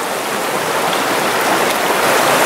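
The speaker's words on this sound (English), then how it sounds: "the water's very, very loud, it's ripping today" Loud rushing water of a small trout stream running high, a close, constant roaring wash with no break, no voices over it.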